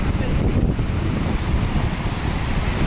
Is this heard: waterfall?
yes